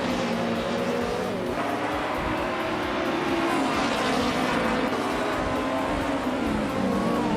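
2006 BMW 320 racing car in a racing video game, its engine a loud, sustained drone whose pitch climbs and falls with gear changes, unbroken for several seconds, no speech.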